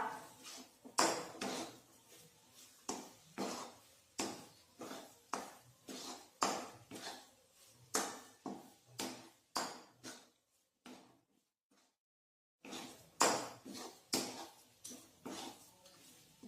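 A spoon scrapes and clinks against a pan while coconut barfi mixture with cardamom powder is stirred, a steady series of sharp metallic knocks repeating about once a second, with a brief pause near the end.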